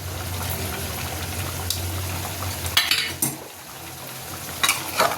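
Whole garlic and potatoes are stirred into hot oil in a pan of cooking mutton, giving a steady low sizzle with scraping spoon strokes and a few clinking metal knocks, close by.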